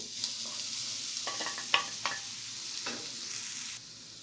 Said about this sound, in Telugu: మనం లైట్గా వేయించుకోవాలండి మరీ ఎక్కువ వేయించుకోకూడదు